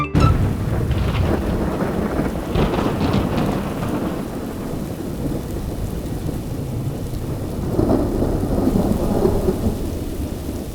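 Heavy monsoon rain pours steadily while deep thunder rumbles and rolls, loud and close, swelling in waves over the constant hiss of the downpour.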